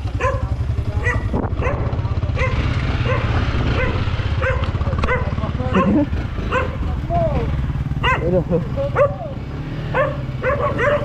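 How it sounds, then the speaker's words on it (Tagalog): A dog barks repeatedly and whimpers while chasing people outdoors, sharp yelps close by over a steady low engine-like rumble, with excited voices and shouts mixed in. "Nahabol kami ng aso ni Kautoy."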